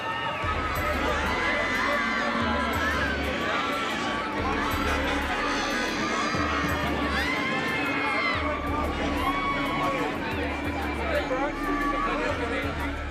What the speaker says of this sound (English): the crowd across the street just goes wild